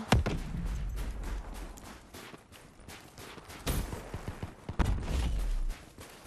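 Bursts of gunfire from the shooter game Black Ops 3, with sniper shots and rapid rattling volleys striking in loud, uneven clusters and pauses between them.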